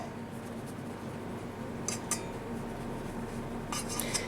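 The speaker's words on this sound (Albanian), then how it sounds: "duke i bërë disa kalime të tilla me anën e pirunit" A fork scraping lightly across crumpet dough before baking, with a few short scratchy passes in a quiet kitchen.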